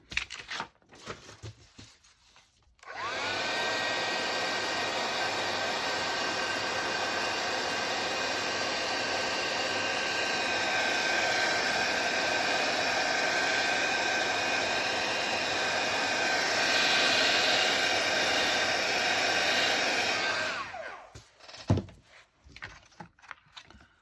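A heat tool blows hot air over freshly stamped ink on a handmade Make a Wish card: a steady, loud, close roar that runs unbroken for about eighteen seconds, with no voice over it.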